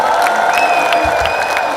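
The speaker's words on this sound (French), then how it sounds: "Si on sait applaudir, on sait crier" A festival crowd in Montreal applauds and cheers at a Congolese music concert, a dense, steady wash of clapping and whoops heard from close by.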